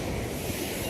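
River water rushes steadily at Ghara Park, a broad, loud, unbroken roar with no voices over it.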